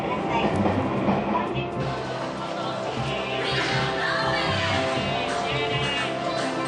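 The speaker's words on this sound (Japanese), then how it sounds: "電車で東京駅に向かいます。" A commuter train heads toward Tokyo Station from Yokohama, its interior filled with a steady rumbling roar and rhythmic wheel clatter on the rails, with a faint murmur of passengers throughout.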